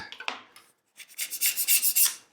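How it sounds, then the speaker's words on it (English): A razor scraper scrapes squeezed-out CA glue off MDF: a few short strokes, a brief pause, then a rapid run of close, rasping scrapes. "I can just use a razor scraper to remove that"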